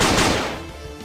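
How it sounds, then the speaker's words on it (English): Gunfire sound effect from the visual novel Dies irae, a loud close blast with a rough burst of energy that decays into a fading rumble over about a second, with no voices. "I could hear gunfire."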